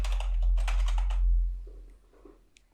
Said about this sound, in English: And again, for this one, text is exactly, and I'll type completed in here.